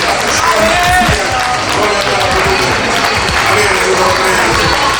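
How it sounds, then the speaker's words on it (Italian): An audience applauds the finalists of a fashion contest at Legnago in Moda, a steady wash of clapping that runs the full length, with voices mixed in. "gli facciamo un grande applauso"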